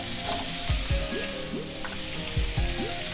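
Carrot and capsicum fry in a pan with a pinch of salt for a white sauce pasta, giving a steady sizzle with several soft scraping stirs and light clinks close by; no voices.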